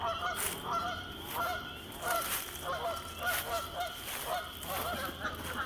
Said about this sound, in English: When I said there's geese, I meant there's geese.